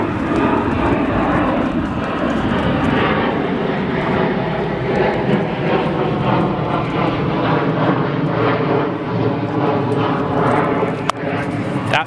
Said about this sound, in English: Flight an Embraer E175 long range from Indianapolis, going around after a 37-minute flight time